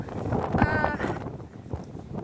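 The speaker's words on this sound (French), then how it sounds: "là, c'est pas possible, il y a trop de vent" Strong wind buffets the microphone on a mountain summit in the Luberon, a continuous loud roaring rumble. A voice is heard talking briefly over it.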